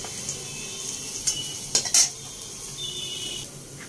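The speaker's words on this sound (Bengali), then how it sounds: "এই যে উচ্ছেটা ভাজা হয়ে গেছে, এবার উচ্ছেটাকে তুলে নিচ্ছে।" Fried bitter gourd is lifted out of a frying pan with a metal utensil, a few sharp clinks and scrapes over a low background sizzle of oil.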